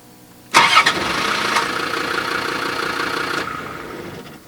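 A boat engine cranks and catches abruptly, then runs at a steady idle nearby for a few seconds before easing down.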